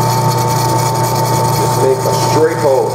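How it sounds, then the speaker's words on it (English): A drill press runs with a steady whine as it bores an axle hole in a balsa wood CO2 dragster body, loud and close, with a voice faintly present. "All right, so get my drill press going,"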